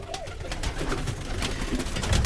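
Birmingham Roller pigeons coo softly inside a loft, repeated low throaty calls over a steady background rustle, close by and continuous with no talking.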